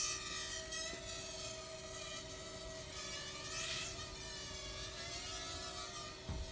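A multicopter drone hovers in flight with a steady, tonal motor whine and buzz, its pitch wavering slightly as it drifts, alone and with no talk.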